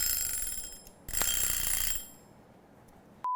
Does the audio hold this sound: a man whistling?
no